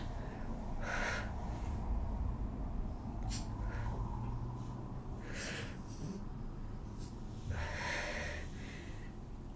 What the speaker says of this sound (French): Et tu continues à bien respirer. Inspire.